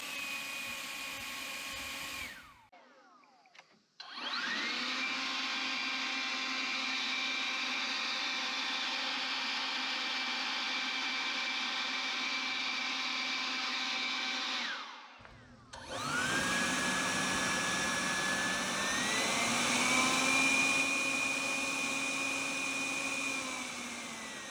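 Electric Kobalt leaf blower whining steadily at close range, cutting out briefly, then restarting and stepping up in pitch as the turbo boost raises its airflow; no talking.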